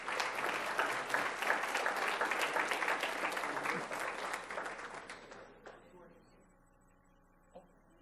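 A round of applause from an audience at a Palm Beach County school recognition ceremony, dense clapping for about five seconds that fades out into near silence, with a brief isolated sound near the end.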